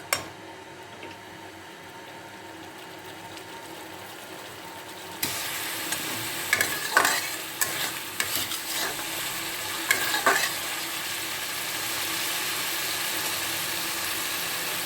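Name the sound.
goat meat with a little water being sautéed and stirred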